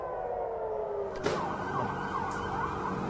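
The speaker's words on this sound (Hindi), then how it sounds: "तेल अवीव में जंगी सायरन बज रहे हैं" An air raid siren wails steadily in the distance over Tel Aviv, its tone sweeping up and down over a constant background rumble.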